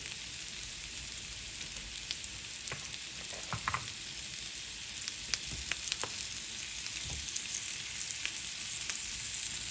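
Butter melts and sizzles with home fries potatoes in a hot pan, making a steady crackling hiss broken by occasional sharp pops and a few scraping stirs.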